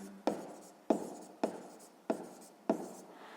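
Pen or pencil writing by hand on paper for a geometry exercise: five quick, evenly spaced scratchy strokes, close and quiet, with no talking.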